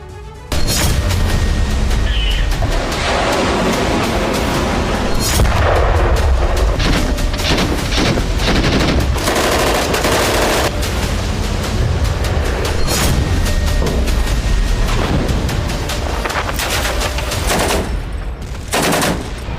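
Russian navy cannons and guns live-firing at sea, loud and near, with dense rapid bursts of automatic fire and heavy booms rolling almost continuously for about twenty seconds.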